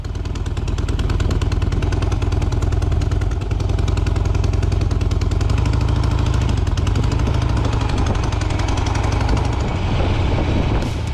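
Custom motorcycles pull away from a hotel on a ride toward Bilbao, their engines loud and close, a steady thumping rumble with throttle surges throughout.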